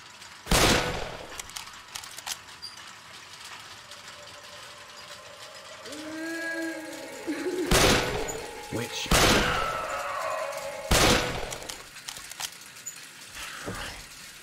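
Sharp, loud gunshot bursts from the video game Glubtastic, fired as several separate blasts spread over the stretch with game effects and a voice between them.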